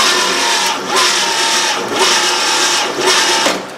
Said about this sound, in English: I can turn the starter over and hold the gauge at the same time.